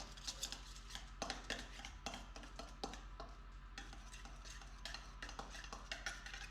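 Food being mixed with olive oil in a bowl, with soft wet stirring and light clinks of utensil against dish in an irregular rhythm, close and quiet, with no talking.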